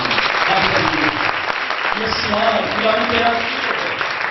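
Congregation at a church sermon breaking into applause, a thick, continuous clatter of clapping hands with some voices calling out beneath it.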